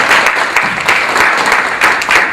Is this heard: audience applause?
yes